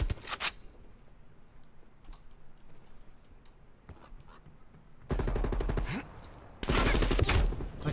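Automatic gunfire in Call of Duty Black Ops, two loud, rapid bursts of machine-gun fire near the end, preceded by a short early burst and a stretch of faint keyboard clicking.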